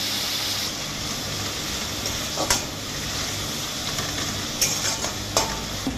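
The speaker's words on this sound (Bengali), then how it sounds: "এটা যখন আমার ভাজা ভাজা একটু হবে সামান্য, তখন আমি নারকেলটা দিয়ে দেবো আর কারি পাতাটা দিয়ে দেবো।" Food fries in hot oil in a pan before coconut and curry leaves go in, a loud, steady close sizzle with occasional scraping clinks from stirring.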